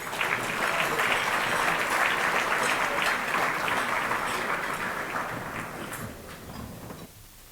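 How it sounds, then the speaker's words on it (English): Sustained applause from a gala audience at a global health benefit, a dense, steady wash of many hands clapping that holds strong for about six seconds before tapering off at the end. "One more round of applause."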